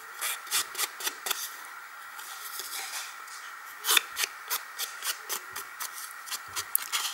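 Black Soot distress oxide ink is blended along paper edges with a tool, giving a series of soft, rhythmic rubbing and scrubbing strokes up close, quiet and repeated in short bursts.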